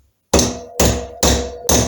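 Four distinct soft-faced hammer taps on the cylinder head of a Triumph Trident T150V engine during a rebuild, each a sharp close knock that rings briefly, spaced evenly about half a second apart in an otherwise quiet space.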